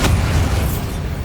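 A Bombarda blasting spell goes off in Hogwarts Legacy, a loud, deep boom with a rumbling low-end tail that fades over about a second, with no voices.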